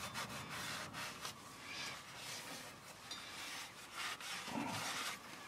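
A rag wipes around the flange of a transmission pan on a 2018 Chevrolet Colorado, giving quiet, close rubbing strokes in an uneven back-and-forth rhythm.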